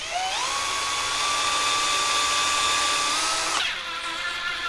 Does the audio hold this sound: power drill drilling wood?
yes